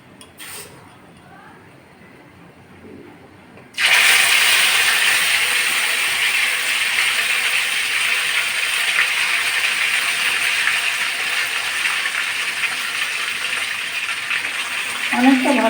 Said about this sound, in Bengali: এখন আমি বেটে রাখা এই যে মিষ্টি কুমড়ার পাতাগুলো তেলের ভিতর দিয়ে দিচ্ছি